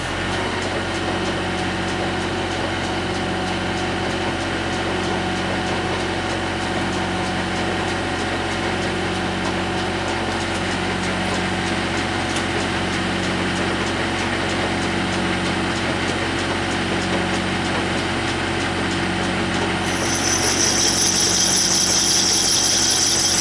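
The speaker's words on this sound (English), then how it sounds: "I'm running the old Deutz generator, making my power for it." An old Deutz generator drones at a steady idle while supplying three-phase power to a lathe, a constant loud engine hum with a faint rhythmic pulsing and a brief higher whine near the end, no speech.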